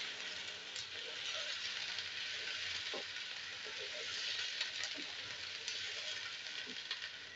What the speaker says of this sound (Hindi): मटन डाल देंगे मटन का कलर वाइट होने तक जो है वो इसको हमने फ्राई करना है कलर चेंज होने तक